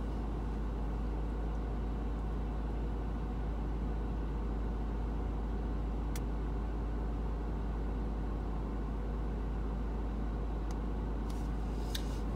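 A car engine idles steadily with a low, constant rumble and no speech, a couple of faint clicks near the end.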